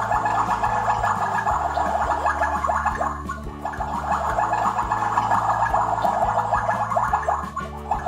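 A toy kitchen pot is set to boil with water and rice, giving a steady bubbling, gurgling sound effect that runs continuously and fairly loud, with no talk over it.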